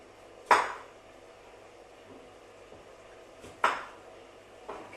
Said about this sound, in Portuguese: eu vou cortar a abobrinha, a gente vai dourar ela, eu vou cortar em pedaços iguais